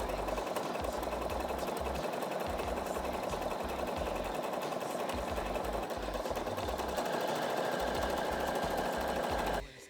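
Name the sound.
sewing machine stitching a buttonhole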